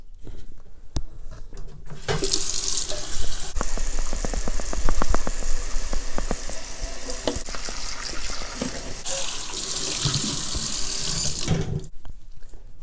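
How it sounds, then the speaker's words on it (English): Tap water runs loudly into a cooking pot as it is rinsed in a sink, a steady rushing splash with clattering knocks of the pot, stopping and resuming partway through, no talking. "Now let's give this pot a rinse."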